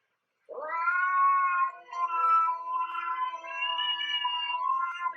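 A cat yowls in one long, drawn-out, wavering caterwaul, loud and close, with no other sounds around it.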